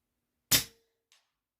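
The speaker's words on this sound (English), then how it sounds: "Like hearing the steel ring." A pellet from an Avenge-X PCP airgun strikes a steel target. One sharp, loud crack is followed by a brief metallic ring that fades quickly, then a faint small tick.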